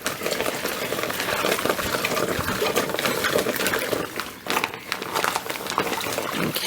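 Water sloshing and churning steadily as cloth pads are washed inside a Scrubba Bag, a continuous close, busy swishing with crinkly plastic rustle throughout.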